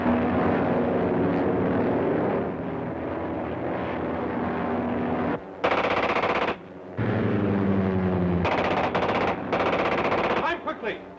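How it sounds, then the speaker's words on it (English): Rapid machine gun bursts aimed at an airplane in a 1930s adventure serial, loud rattling volleys broken by brief pauses, over a droning aircraft engine. "Get out of the range of that machine gun."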